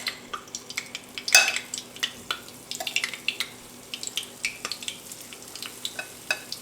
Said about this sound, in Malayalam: ഇനി നമുക്ക് ഓയിൽ ചൂടായിട്ടുണ്ട്. അപ്പോൾ ഇനി നമുക്കത് ഫ്രൈ ചെയ്യാം.